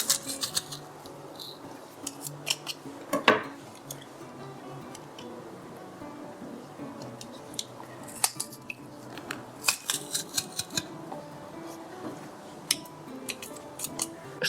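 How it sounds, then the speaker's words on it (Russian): Two garlic cloves pressed through a garlic press while preparing a zucchini dish, a run of close, crisp metallic clicks and crunches with short pauses between them, moderate in level and with no talking. "Выдавлю через пресс 2 зубчика чеснока."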